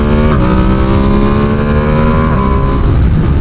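A V2s car on its first track test drives at high revs, and its engine drones loud and close as it accelerates steadily, with a rising whine running through the whole stretch.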